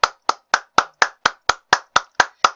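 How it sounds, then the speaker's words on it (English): Hand claps in a slow, perfectly even rhythm, eleven sharp, close claps about a quarter second apart that sound like a single pair of hands rather than a crowd. "Clap for the haters."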